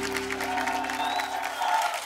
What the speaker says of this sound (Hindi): जोरदार तालियां नवराज के लिए।